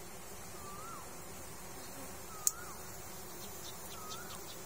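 Bees buzz around a honey nest with a steady, fairly faint drone. A single sharp click sounds partway through.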